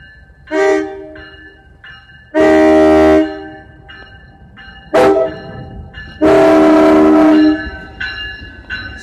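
A train passing at Raritan sounds its horn in a loud, close pattern: a short blast, a long blast, another short one, then a final long sustained blast, with rumbling rail noise underneath.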